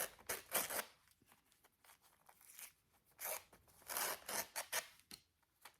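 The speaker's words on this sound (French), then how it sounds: "On va déchirer." Paper tearing for a handmade autumn junk-journal envelope comes in several rough ripping strokes at close range, separated by short pauses, with no talk.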